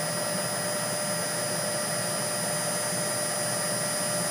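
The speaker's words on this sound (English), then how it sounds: "reducing the current on the motor at 48 hertz, and that is going to make this motor running more efficient" Electric motor driven by a Yaskawa variable-frequency drive at 48 hertz, giving a steady, loud continuous hum and whine with constant tonal lines and no change throughout.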